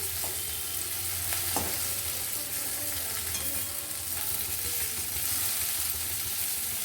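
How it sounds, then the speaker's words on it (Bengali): Steady oil sizzle and crackle throughout, close by, with a few soft stirring clinks, as stuffed bitter gourd shallow-fries in a little oil. "বেশ ভালো করে উচ্ছেটা ভাজা হয়ে গেছে অল্প তেলের মধ্যে"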